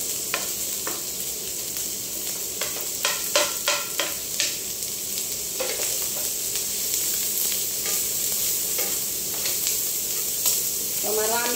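Garlic, onion and carrots sizzle steadily in a pan for spaghetti royal, with clusters of sharper scraping and clinking spatula strokes scattered through the continuous frying hiss.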